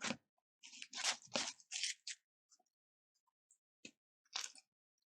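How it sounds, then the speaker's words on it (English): A sandwich loaded with Doritos being bitten and chewed up close, a few loud crunchy bites in quick succession followed by sparse, quieter crunches and one more burst near the end. "Listen to that crunch."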